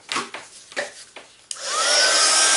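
A heat tool warms embossing powder for hot embossing. A few soft taps and rustles come first, then the tool switches on and gives a loud, steady airy blowing hiss with a faint whine that continues to the end.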